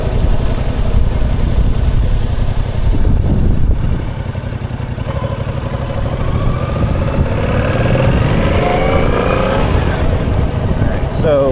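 Yamaha MT-07 motorcycle riding in first gear at about 20 mph, a steady mid-pitched engine drone with wind rush, heard up close throughout while a rider talks over it.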